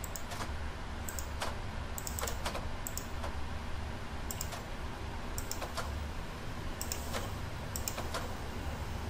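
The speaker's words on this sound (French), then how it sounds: "On fait plusieurs clics. Le clic gauche." Computer mouse left-clicks during a PMDG 777 flight simulator session, a string of quick, light plastic clicks in small clusters over a steady background hiss, close and fairly quiet.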